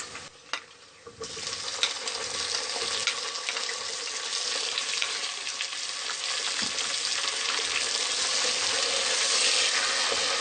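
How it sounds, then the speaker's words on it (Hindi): Chopped tomatoes fry in hot oil with golden onions in a pan for an aloo gobhi sabzi, a loud, steady sizzle that starts after a brief quiet moment and keeps crackling close by, with no talking. "टमाटर गलने तक हम इसको भूनेंगे।"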